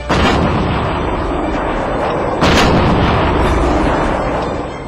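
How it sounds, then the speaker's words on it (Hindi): Heavy booming artillery blasts at the Nasirabad firing range in the Aravalli hills roll out loud and sustained, a second deep explosion surging midway and slowly fading, with no voices. "इस वादी में अकेले गोलियों की आवाज ही नहीं गूंजती बल्कि बीच बीच में बड़े धमाके भी सुनाई देते हैं"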